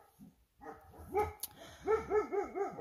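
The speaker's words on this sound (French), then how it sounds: "les chiens ils n'arrêtent pas de gueuler" Several dogs bark far off outdoors in repeated, uneven bursts, with whimpering yips mixed among them and no nearby voices.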